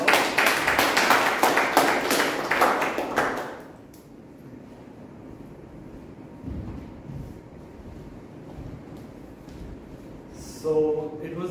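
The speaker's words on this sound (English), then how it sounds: "A big round of applause." Brief burst of clapping from a small club meeting audience, lively for a few seconds and then stopping abruptly, followed by quiet room noise with a faint thump and a short chime near the end.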